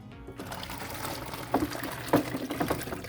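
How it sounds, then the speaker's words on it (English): Pastrami brine poured into six quarts of cold water makes a steady liquid pour close up, with a few sharper splashing knocks toward the end. "I'm going to add it to 6 quarts of cold water."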